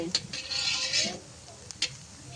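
Meat cooking with green chillies in a kadai at a home picnic, with brief stirring scrapes and a soft sizzle, a couple of sharp metallic clinks, and faint voices in the background.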